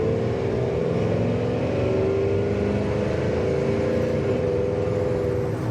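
A 1954 Chevy Sedan Delivery cruising at speed, its engine droning steadily with a smooth rise in pitch as it pulls through the gears, loud and continuous with road and wind rumble underneath, no talk.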